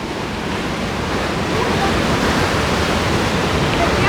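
Sea waves washing in on a rocky stretch of the Sri Lankan coast, a continuous loud roar of surf that swells slightly toward the end, mixed with wind noise.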